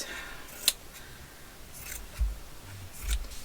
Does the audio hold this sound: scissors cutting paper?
yes